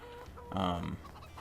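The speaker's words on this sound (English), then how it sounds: "These chickens might need more" Brief clucking from chickens in the farming game Farming Simulator 22, a short burst of hen calls over a low steady background.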